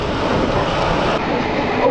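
Steady, dense rumble and rattle of a train ride from inside a moving carriage, continuous and close, with no distinct clacks standing out.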